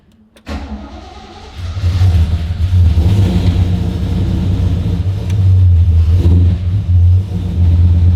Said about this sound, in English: I'm going to try crank her straight away